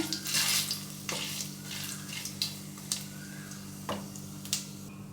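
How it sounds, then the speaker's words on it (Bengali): Cumin seeds and a dried red chilli fry in hot mustard oil, crackling and popping in short sharp bursts over a low steady sizzle and a background hum, with no voices. "ফোড়নটা ভেজে নেব"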